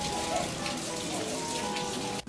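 Steady rain falls on a surface at a farm in Nikko, Tochigi, a dense even patter filling the whole stretch with no voices.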